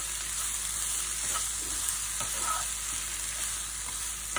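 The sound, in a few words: onions frying and being stirred in a pan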